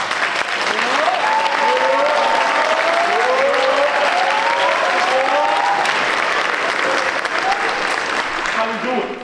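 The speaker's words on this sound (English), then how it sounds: "one last round of applause" Sustained audience applause fills a school choral night concert hall, steady and loud throughout, with a voice speaking or calling out over the clapping.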